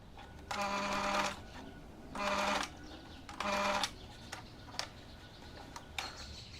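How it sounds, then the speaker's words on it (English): Sewing machine stitching the elastic waistband of a puff sleeve drop waist dress, three short rapid runs of whirring stitches separated by pauses, followed by a few faint clicks. "And I also ended up top stitching the band."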